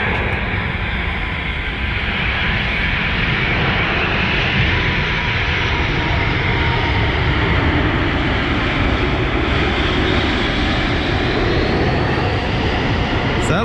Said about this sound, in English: That looked like an old DC-9 as well, so UPS is using those things.